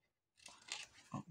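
Scissors cut paper for a scrapbook album page; a short quiet pause, then several close crisp snipping and crunching sounds in quick succession.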